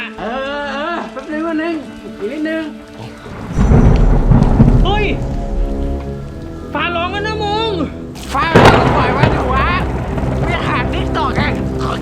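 Heavy rain pours during an outdoor thunderstorm, with loud thunder rumbling and cracking throughout, while people nearby talk and shout excitedly over the downpour.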